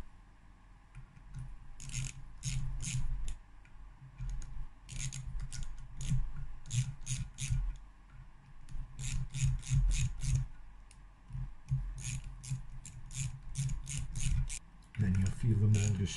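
Nuts being tightened by hand in a star sequence on a Yamaha DTR two-stroke engine during a rebuild, giving bursts of close, quick ratcheting clicks separated by short pauses, with a louder knock near the end.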